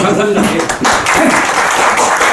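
A conference audience at a provincial filial-piety forum claps for a presenter in a dense, continuous burst, with a voice speaking over the applause.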